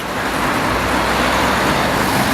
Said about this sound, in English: Look at this traffic.